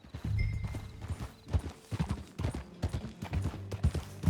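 Horse hooves clip-clopping in Red Dead Redemption 2, a steady close rhythmic trot of hoofbeats on the ground, continuing alone without talk.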